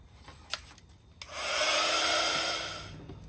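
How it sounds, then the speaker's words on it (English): A heat gun blasts hot air onto a mixed media art journal page, a steady whooshing roar that kicks in after a few light taps and holds loud and close for about two seconds. "let's just give that a quick blast with the heat gun"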